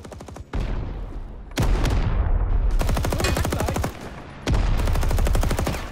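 A .30 cal machine gun in the Rising Storm 2 video game fires in three long sustained bursts, rapid evenly spaced loud reports with brief pauses between them, close and alone.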